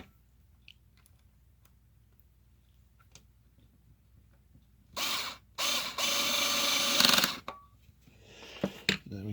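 A manual screwdriver driving a screw into the center pivot joint of a Black & Decker PD360 Pivot Driver housing, giving a dense burst of ratcheting, clicking turns for about two seconds, then a few scattered clicks, with near-silence before it.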